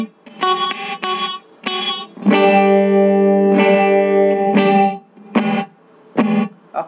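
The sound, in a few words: Boss RV-5 reverb pedal in gate mode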